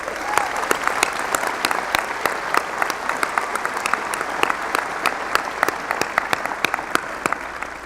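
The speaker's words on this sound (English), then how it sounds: "let's give them all a round of applause" Dense, sustained applause fills a university winter commencement ceremony, many hands clapping at once with crisp individual claps standing out, loud and continuous with no pause.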